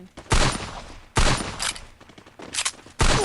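Dual guns fired in Free Fire, the video game, with several loud bursts of game gunfire cutting in sharply at intervals over a short span.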